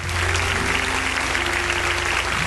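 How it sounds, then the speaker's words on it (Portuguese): A church congregation applauds in a steady, dense patter of many hands, loud and continuous, with faint sustained music tones beneath. "Vamos aplaudir a Ele, irmãos"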